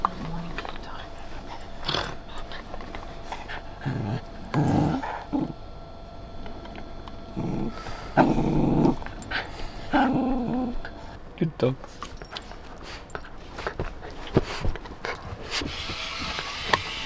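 Dogs out on an early-morning walk before sunrise on a winter road trip, with scattered barks, whimpers and scuffling sounds alongside occasional people talking and footsteps.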